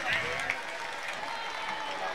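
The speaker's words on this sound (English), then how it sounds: "Can we have one round of applause for all those students who entertained you?" An audience at a memorial trophy competition applauds students in a steady, moderately loud patter of clapping that fills the whole short stretch from a crowded hall.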